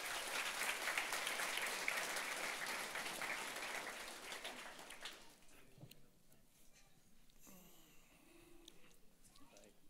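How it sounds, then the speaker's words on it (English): An outdoor crowd gives a round of applause for the egg climb speed-climbing winner at a lineman class graduation. The clapping is steady and fairly distant, then fades after about five seconds into quiet ambience with light scattered sounds. "Round of applause for who won the egg climb"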